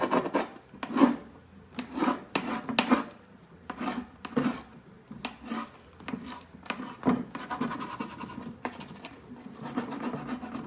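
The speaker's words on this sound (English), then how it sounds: "We've rubbed it well over the back of our foil." Firm rubbing over the back of an adhesive transfer foil laid on a stool, a steady series of close, raspy back-and-forth strokes with no talk.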